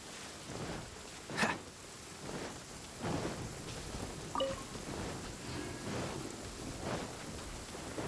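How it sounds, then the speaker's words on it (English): Steady rain with rumbling thunder in the Inazuma region of the video game Genshin Impact, a continuous downpour hiss broken by a sharp crack and several low rolls of distant thunder, with no voices. "Don't stay out in the rain for too long."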